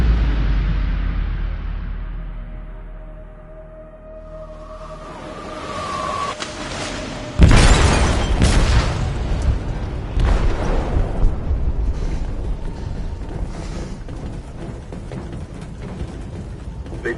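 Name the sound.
explosive detonated in a ship's hold, from a video game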